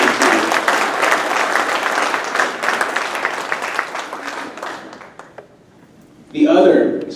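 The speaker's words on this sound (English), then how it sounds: "One more round of applause for our musicians." An audience gives student musicians a loud round of applause that gradually tapers off into quiet, followed by a voice speaking at the end.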